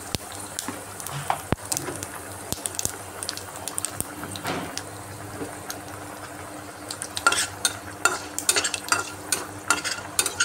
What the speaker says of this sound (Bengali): ফোড়নে দিয়ে দিলাম মেথি আর কালো জিরে